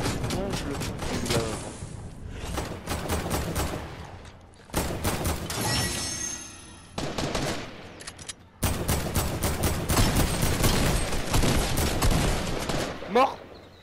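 Bursts of automatic and single-shot gunfire in the battle royale video game Fortnite crackle in rapid clusters with brief gaps, while players talk over the shooting.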